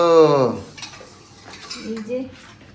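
A metal spoon scrapes and clinks in a kadai while milk and sugar are stirred, a few close utensil sounds after a brief voice at the start.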